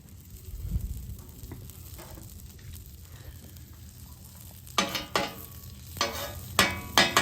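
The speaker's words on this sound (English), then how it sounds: "I want the whole bread to fry" Bread frying in butter on a griddle, a soft low sizzle at first, then sharp bursts of scraping and stirring noise in the later seconds over the continuous fry.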